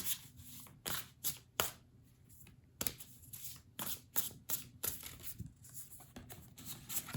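Tarot cards are shuffled in quick, crisp bursts of riffling and flicking, close and fairly quiet, with short pauses between the shuffles.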